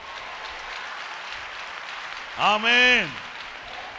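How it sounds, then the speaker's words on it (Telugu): A church congregation claps throughout, a steady wash of applause, while a single voice calls out loudly over it near the end. "ప్రభువుకు మహిమ కలిగేటట్లు గట్టిగా చప్పట్లు కొట్టాలి."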